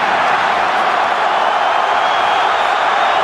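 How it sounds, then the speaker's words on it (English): A rugby crowd at Suncorp Stadium during a New Zealand versus Australia match in 2012, a dense, loud, sustained roar filling the whole stretch without a break. "Listen to the crowd at Suncorp Stadium."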